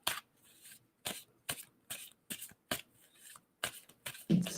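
Tarot cards being shuffled by hand in a quiet room, a series of about ten short papery riffles in a steady rhythm, close and fairly soft.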